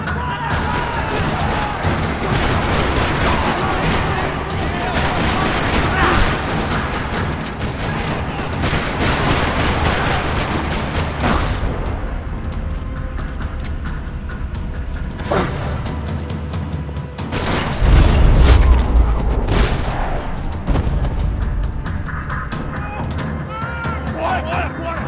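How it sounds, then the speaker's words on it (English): Gunfire rattles through a parking lot in the video game Max Payne 3, dense and continuous for about twenty-five seconds, swelling into a louder burst past the midpoint, with game dialogue spoken over parts of it. "Another parking lot rattling with gunfire."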